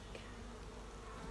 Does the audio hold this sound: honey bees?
yes